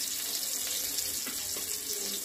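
Water runs steadily through a strainer as flattened rice (poha) is soaked and drained in a kitchen; a continuous close hiss of pouring and trickling water with no talk.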